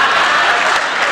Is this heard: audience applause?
yes